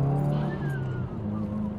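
Subaru WRX engine revving under acceleration, a steady low drone with rising pitch sweeps, loud and close from inside the car.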